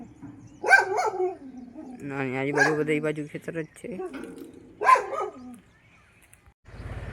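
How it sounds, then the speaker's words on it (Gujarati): A dog barks a few times, sharp yaps spaced out, close by, alternating with someone talking outdoors. "આ કૂતરું"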